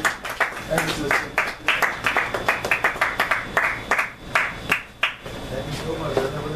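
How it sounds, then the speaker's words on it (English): Live audience applause for an author's arrival at a talk, a dense burst of many hands clapping with sharp individual claps standing out, loud and close, sustained for several seconds before thinning out. "I never got that much applause"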